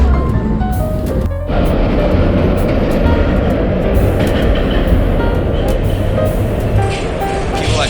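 An R-32 subway train on its farewell run produces a loud, steady rumble of wheels and motors. A sharp burst is heard near the start, and the roar continues throughout as riders talk over it.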